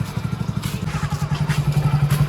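A motorcycle engine runs close by with a rapid, even, low thumping pulse and a slight mechanical clatter, loud and steady throughout the short moment.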